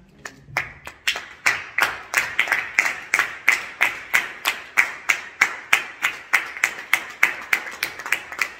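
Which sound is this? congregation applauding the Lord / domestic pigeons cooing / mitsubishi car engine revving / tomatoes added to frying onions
congregation applauding the Lord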